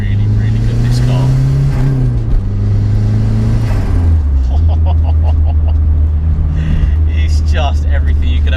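A Renault 5 GT Turbo engine drones loudly from inside the cabin as it accelerates, pitch climbing then dropping with gear changes, while a voice talks over it.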